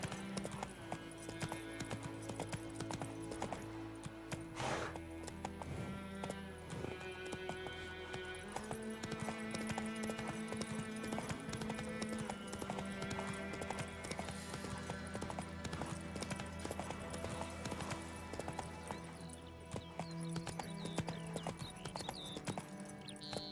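Horse hooves in The Witcher 3 video game, a brisk steady clip-clop of a trotting mount under a backdrop of game music and ambience, with occasional snorts.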